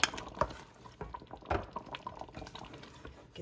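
Red pepper sauce pours into a pot holding whole chipotles, making soft, close liquid glugs and splashes that fade into a low simmering bubble.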